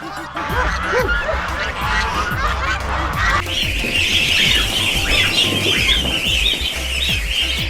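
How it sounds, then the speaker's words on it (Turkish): Four-day-old goose chicks, hatched in an incubator, peep and squawk in a busy chorus, near and fairly loud and overlapping continuously, with deeper honks and rustling underneath. "kaz civcivlerimizin bugün dördüncü günü. Kuluçka makinesinden çıkan dördüncü günü"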